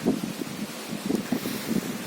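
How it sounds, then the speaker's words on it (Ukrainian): Strong wind buffets the microphone over a garden plot in early October, giving low, gusty rumbling bursts that rise and fall close to the recorder. "бо дуже шумить вітер"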